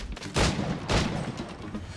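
Gunfire in the video game Assassin's Creed Rogue: two loud, sharp shots about half a second apart, each with a short booming tail, alone over a low background.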